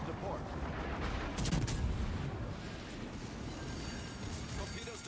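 Secondary guns of a warship in World of Warships Legends fire in a dense, rumbling barrage of booms that swells briefly and then holds steady, while a player talks over the battle noise.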